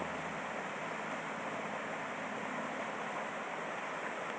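River water runs along a trail in a steady, even broadband rush, moderately quiet and continuous, with no voices over it.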